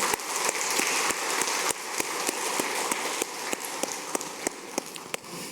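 Church congregation clapping during a Sunday worship service, a dense sustained wash of many hands applauding together with a few sharper individual claps standing out, steady and fairly loud throughout.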